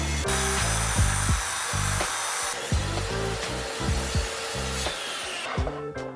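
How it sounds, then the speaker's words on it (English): A Makita track saw cutting through wood gives a loud, steady whine that runs nearly the whole time, with rhythmic low thumps and a change in tone partway through the cut. "The Makita Track Saw is a beautiful, smooth, precise machine capable of doing so many different things."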